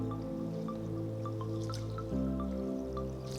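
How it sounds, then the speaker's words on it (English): Water sloshing and dripping in a bowl as rice and fenugreek seeds are swished and rinsed, with a steady background hum and a sharp drip-like tick repeating. "Pour some water and wash them well about 2 to 3 times."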